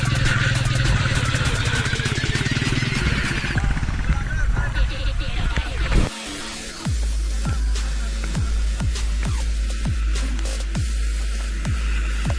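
A motorcycle engine revs and labours on a muddy off-road monsoon trail, a loud close rumble that surges, briefly cuts out, then settles into a steady low drone with rhythmic clatter, as people talk over it.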